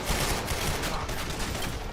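Dense, rapid gunfire from The Darkness 2 video game fills the clip, loud and continuous, with overlapping shots blending into a sustained barrage.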